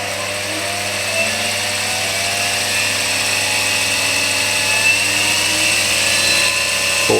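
A modified Warco WM12 milling machine, converted from gear drive to speed control, runs with a steady, even motor hum and whine, close and unchanging throughout, with no talking.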